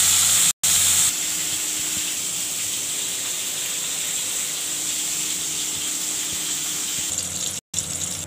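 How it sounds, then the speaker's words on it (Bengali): Bori lentil dumplings frying in hot oil give a steady, loud, close hiss that continues without a break, apart from two momentary cutouts. "বড়ি ভেজে নিচ্ছি। দেখুন বড়ি দিয়ে দিচ্ছি।"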